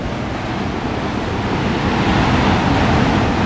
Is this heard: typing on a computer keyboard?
no